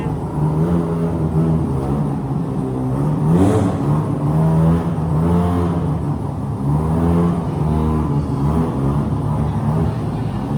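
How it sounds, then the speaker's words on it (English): A Mazda RX-7 rotary engine drones and revs in rising and falling waves at a car show, a buzzy, steady mechanical tone heard up close. "You gotta listen to the RX-7 MV."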